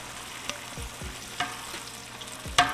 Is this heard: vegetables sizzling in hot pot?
yes